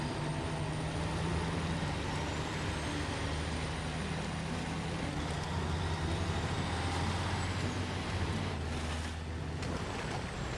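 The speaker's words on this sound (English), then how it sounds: "Truck, you're really trying to roll over on me again" A heavy truck engine droning steadily in the SnowRunner off-road game in the Zurdania region, a constant low rumble with mechanical whine, loud and continuous throughout with no talking.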